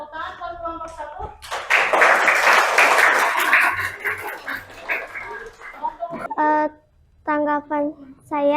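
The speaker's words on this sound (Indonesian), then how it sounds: "Tepuk tangan buat kelompok 1." A classroom of students claps for a group that has just finished presenting, a few seconds of lively applause, followed by children's voices and speech.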